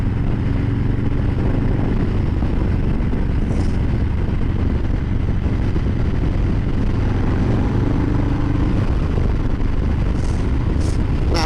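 A V-twin motorcycle engine drones at high, steady power under heavy wind rush while riding a curvy road, loud and close throughout with no distinct rev changes.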